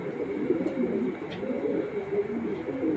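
A female racing pigeon coos softly and repeatedly, a low continuous warbling murmur held close without pause.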